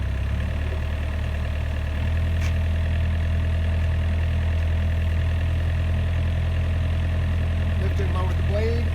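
Heavy equipment diesel engine warming up with its hydraulics engaged, a steady low idle rumble with constant drone, running continuously and fairly loud throughout with no pauses.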